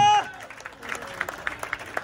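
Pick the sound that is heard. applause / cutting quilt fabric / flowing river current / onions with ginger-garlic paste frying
applause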